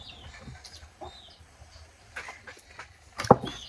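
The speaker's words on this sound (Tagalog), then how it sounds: "Kulit ang mga manok." Chickens cluck in short, scattered bursts nearby, with one louder squawk near the end over quiet background noise.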